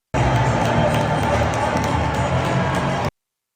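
A stadium crowd at the US Open reacting to Trump, a dense, loud, sustained roar of many voices filling the whole stretch without pause before cutting off abruptly.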